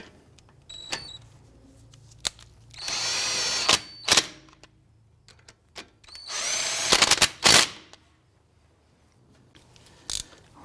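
A power tool tightens brake caliper bolts on an Acura TL: two loud, close bursts of whirring and rattling, each about a second long, separated by quiet gaps and small clicks and clanks.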